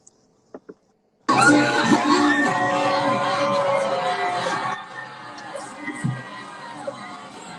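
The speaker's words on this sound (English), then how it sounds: "Listen to that crowd." A loud crowd at an event in West Hollywood screams and shouts all at once in a sustained roar that thins after a few seconds. A few faint sounds come before it.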